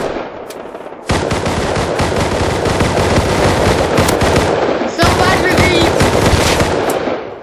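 Rapid automatic gunfire in the survival game Rust, loud and close sustained bursts with a short break near the middle, mixed with players talking.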